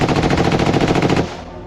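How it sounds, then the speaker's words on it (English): Rapid automatic gunfire, a fast burst of loud repeated shots lasting about a second, then cutting off into a lingering echo. "Gunfire erupted like thunder."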